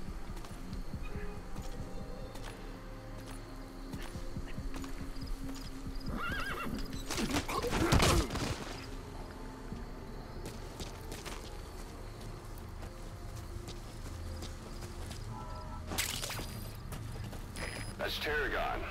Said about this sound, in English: I definitely did not want to call my horse.